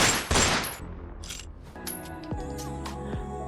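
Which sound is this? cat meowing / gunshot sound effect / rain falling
gunshot sound effect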